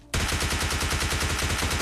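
Rapid, continuous automatic gunfire from a battle royale shooter game in a solo-versus-squad match, a dense, loud burst of evenly spaced shots starting abruptly and running without a break, with no talk.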